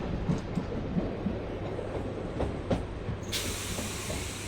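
A MEMU electric multiple-unit train rolls into Bhimavaram Junction, a steady rumbling rail noise with periodic wheel clicks and a brief hiss of air near the end, heard from on board with no talk.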